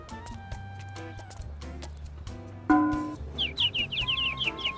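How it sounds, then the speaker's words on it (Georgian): Small birds chirp in short, bright, repeated bursts in the later half, mixed with other household sounds and thuds earlier on, at moderate distance. "რა ის ჩიტები იჭიჭიგებენ"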